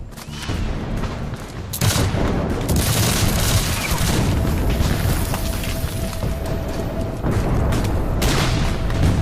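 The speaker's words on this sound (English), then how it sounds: "Bullets and shells fly in all directions." Dense Civil War battle at Gettysburg in 1863, with loud, continuous volleys of musket fire and booming shell explosions that keep up without a break, and heavy bursts near the start and again near the end.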